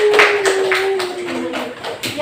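A school class claps for group 4, a few distinct loud claps in an uneven rhythm with a sustained tone and some voices running underneath.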